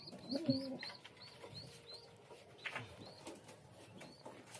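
Pigeons in a home loft give a low, throaty coo early on, followed by faint chirps and small rustles against a quiet evening background.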